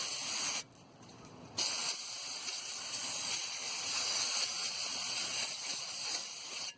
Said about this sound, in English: Then you want to take your brake cleaner